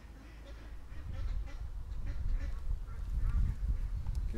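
A flock of black ducks moving into bulrushes gives soft, scattered quacks over a low, rumbling outdoor background, faint and somewhat distant, with no clear talk.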